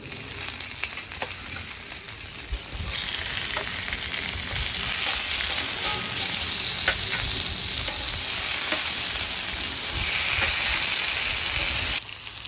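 Beef burgers sizzle steadily on a flat top grill, a constant crackling hiss that grows louder after the first few seconds and holds with scattered pops until a brief dip at the end.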